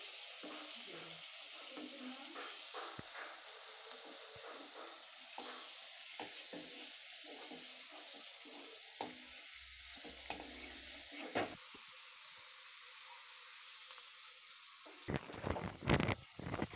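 Green chillies for mirchi fry sizzling in a pan as they are stirred: a steady, faint frying hiss with scattered scraping stirs, and a louder burst of clatter near the end.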